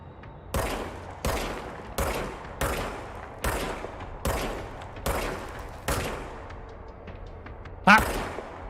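The service weapon in the video game Control fires a series of sharp, evenly spaced shots, about eight in total with short decays between them. A final louder shot comes after a brief pause.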